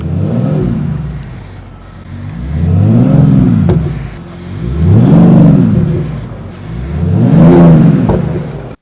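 A 2025 Mercedes E53 AMG hybrid sedan's 612 hp six-cylinder engine revs repeatedly, with about four loud, close swells rising and falling in a steady rhythm and no talking.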